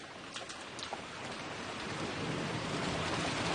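Steady rain falls during a Good Friday procession in Cuenca, Spain, a dense close hiss that grows slightly louder, with a few faint higher taps early on.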